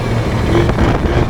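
A 2001 Yamaha Zuma scooter engine drones loudly and close as it rolls over a speed bump, its note sagging as it bogs down for a moment.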